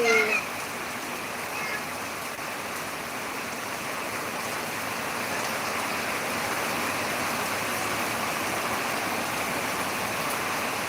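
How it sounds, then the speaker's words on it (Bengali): Heavy rain pours down in a dense, continuous hiss, steady and unbroken throughout, with a brief voice at the very start. "চারিদিকে প্রচুর বৃষ্টি হচ্ছে"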